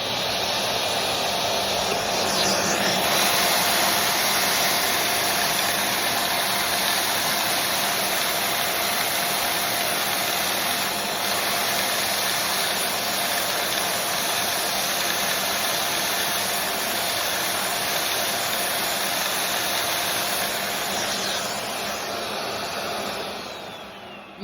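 A Lego vacuum engine runs continuously, producing a steady, loud whirring hum with an airy hiss that holds nearly unchanged for the whole stretch, with no voices.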